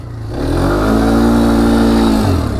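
Polaris Phoenix 200 quad, idling rough, revs up under throttle into a steady buzzing drone, holds near and loud, then eases back off at the end.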